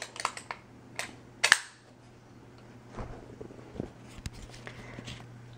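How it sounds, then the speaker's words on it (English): Bolt of a Sig Sauer MPX 9mm carbine being pulled back by hand, a few close, sharp metallic clicks and clacks with a louder snap near the start, then scattered softer handling knocks in a quiet room. "pull the bolt back"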